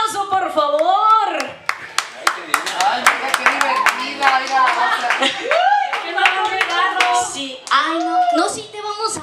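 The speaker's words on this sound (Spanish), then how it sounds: "Fuerte el aplauso, por favor." At a children's party clown show, sharp bursts of clapping from kids and adults break out between lively chatter, with high children's voices talking and calling out over and around the claps.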